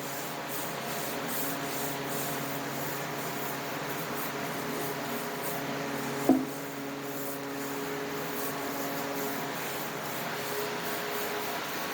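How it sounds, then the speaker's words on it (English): Steady rubbing of polish across an airplane exhaust surface, a continuous even scrubbing texture with one brief sharp tap partway through, close and alone without talk. "Just gonna rub her around and agitate the surface."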